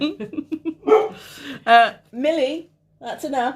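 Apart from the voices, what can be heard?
dog barking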